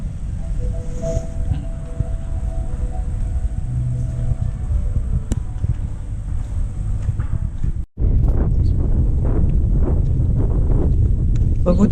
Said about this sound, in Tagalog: Mabuti pati mahangin, no?